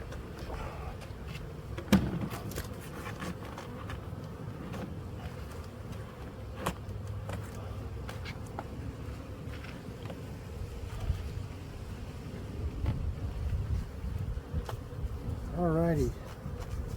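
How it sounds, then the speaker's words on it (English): Bees buzz around an opened hive box in spring, a steady low drone running beneath outdoor noise, with a brief rising whine near the end and a few soft knocks. "the bees start coming up to the top saying, "Ah, we're back.""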